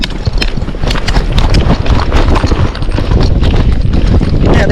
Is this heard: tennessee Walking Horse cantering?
yes